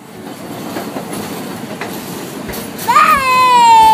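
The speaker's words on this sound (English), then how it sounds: "Here comes the train. It's a big train, right?" A Staten Island Rail Road train comes in with a rising rumble and wheel clatter, then a loud, sustained high brake squeal that dominates the final second.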